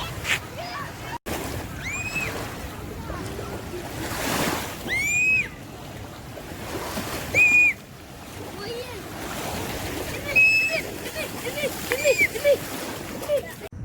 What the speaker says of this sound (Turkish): Şimdi size denizi göstereceğim.